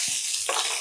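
Mustard seeds, cumin, onions and chillies fry in a pan for millet upma, a bright hissing sizzle with a brief stirring scrape, close and steady.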